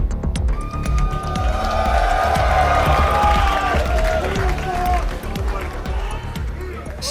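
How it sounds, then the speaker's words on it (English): A lively crowd in an esports arena cheers and claps before the final game of the day, loud and sustained, with voices talking over the noise. "Sprightly crowd for the final game we have here of the day."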